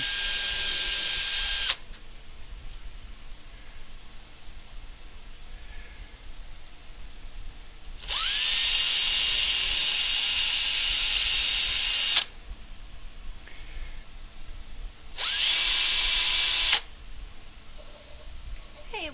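A small handheld drill bores through a Christmas ornament in three bursts: a short whine at the start, a longer steady run of about four seconds, then a final brief burst, with quiet pauses in between.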